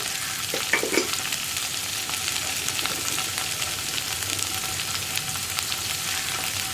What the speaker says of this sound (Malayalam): കോളിഫ്ലവർ ഒന്ന് ഹാഫ് കുക്കായി വരുന്നത് വരെ ഇളക്കി കൊടുത്തുകൊണ്ടിരിക്കുക